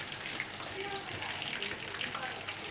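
Koftas deep frying in hot oil give off a soft, continuous sizzling crackle, faint and close throughout.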